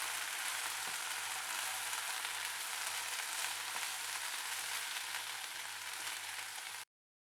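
Fried egg 65 pieces are mixed with ketchup and coriander in a pan, giving a soft, steady, even sizzling hiss that continues without a break until it cuts off abruptly near the end.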